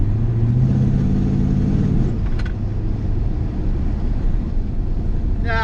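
A big-block Ford F-250 truck engine idling and running, loud and close with a steady deep low rumble throughout, a brief higher whine partway and a short rising rev near the end.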